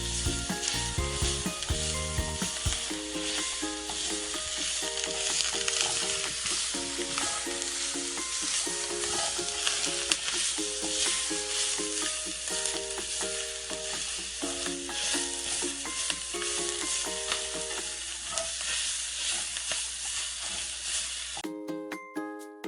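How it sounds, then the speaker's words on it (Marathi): Ground spice paste for a spicy dry clam masala roasts in hot oil, a loud, steady sizzle with scraping stirs running continuously, while a music track plays along over it. "आता आपलं जे वाटण आहे ते तेलामध्ये छान खरपूस असं भाजून घ्यायचं."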